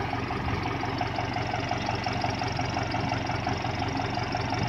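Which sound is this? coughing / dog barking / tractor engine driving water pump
tractor engine driving water pump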